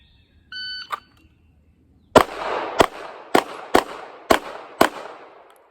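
Six sharp gunshots from a practical shooting run at partial targets crack out loud and close, spaced about half a second apart, each ringing into a short echo, after a brief electronic timer beep.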